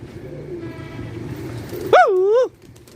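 Pigeons kept for pigeon flying in Karachi: a loud, close coo rises and falls for about half a second over a low murmur of background noise.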